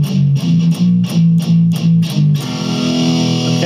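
A distorted electric guitar riff with rhythmic chugging low notes, repeated in short bursts, then a sustained ringing chord at the end.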